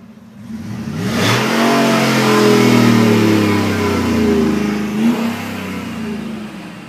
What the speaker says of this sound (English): we're getting ready to hit the pipes on this 2012 Ford F-150 Harley-Davidson